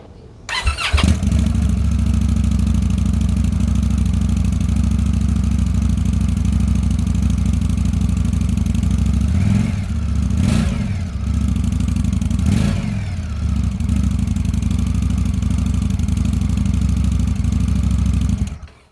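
An Indian Scout motorcycle with its stock exhaust cranks and fires up, settles into a loud steady idle up close, then gets blipped with a couple of sharp throttle revs before shutting off at the end.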